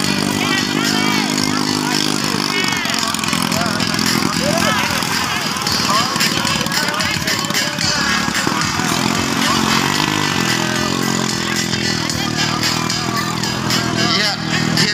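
A loud racing motorboat engine roars steadily close by as the boat passes during a boat race, buzzing and droning throughout, with an excited commentator talking over it.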